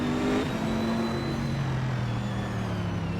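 GTR and GT4 race cars lapping Laguna Seca in a racing video game, a loud sustained engine drone with a shifting, gradually falling pitch from near cars, with no speech.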